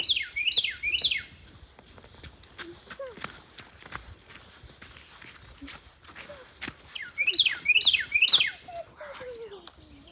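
Bird chirping outdoors beside a partly finished camper van: two bursts of quick, high, repeated chirps, one at the start and another near the end, set among scattered clicks, footsteps and faint background sounds.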